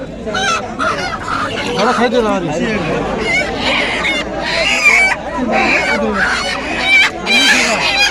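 Geese honk among clucking chickens at a busy poultry market, the calls mixed into constant crowd chatter and nearby voices talking.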